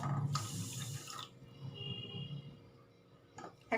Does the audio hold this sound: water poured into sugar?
yes